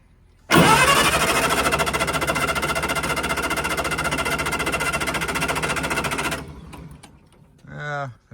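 A 1960 military generator engine fires up and runs loud and steady with a rapid, rough pulsing drone for about six seconds, then cuts off abruptly, leaving near silence and a brief voice at the end.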